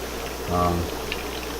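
An aquarium filter bubbles in a cherry shrimp tank, a steady, soft fizzing wash interrupted by a short murmured voice.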